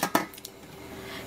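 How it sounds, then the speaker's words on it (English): Metal lid set down onto a fish steamer pot, a couple of close clinks and clatters of metal cookware, then a quiet steady hiss of steam. "Close up the lid."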